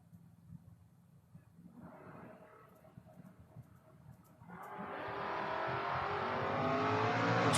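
Drag racing cars, a little Mazda and an S10, accelerate down the strip at a racing event, engines swelling from a distant rumble into a loud, rising roar that builds steadily toward the end.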